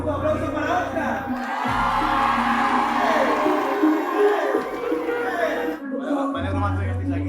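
A live audience at a rap show loudly cheers and applauds a performer, a continuous roar of whoops and shouts, with a low musical hum in brief gaps.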